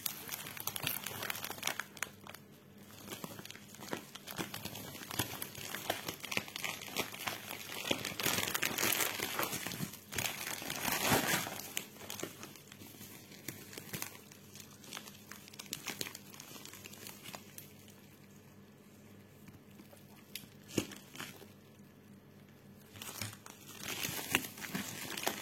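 Crinkly plastic packaging of a cross-stitch parcel being unwrapped and handled, with loud, continuous crumpling and crackling bursts close up for about 25 seconds.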